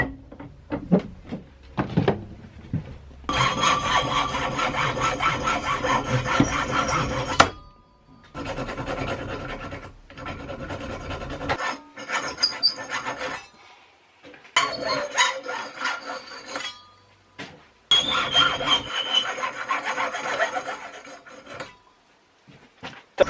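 Hand sawing through a guitar sanding radius gauge, several bursts of raspy back-and-forth strokes separated by brief pauses, close and fairly loud.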